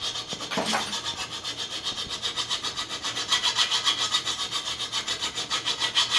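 Steady rhythmic rasping of a tool blade being sharpened with a file or stone, repeated back-and-forth strokes about twice a second, close and fairly loud with no talking.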